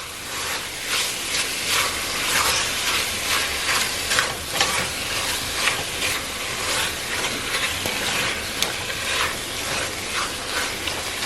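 Beef chunks brown in a Dutch oven with a loud, steady sizzle, broken by rhythmic scraping and stirring clatter close up, with no one speaking.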